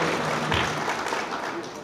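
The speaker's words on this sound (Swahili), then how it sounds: "Wapigeni makofi wote kwa pamoja." Audience applause at a ceremony where a truck drivers' association presents an award, steady clapping from a crowd at close range lasting under two seconds, with speech mixed in.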